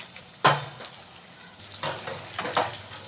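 Chicken kabab frying crisp in a pan, with a few sharp sizzling bursts and stirring clatter breaking over a quieter background hiss, close and fairly soft.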